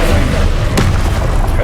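In the video game Hogwarts Legacy, a Confringo spell explosion lands as a loud, deep boom over a sustained low rumble, with a sharper burst in the middle.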